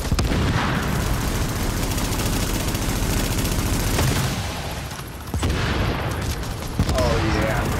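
Gunfire in The Division video game rattles in dense, continuous bursts with booming impacts, dipping briefly before sharp shots resume; a voice is faintly mixed in.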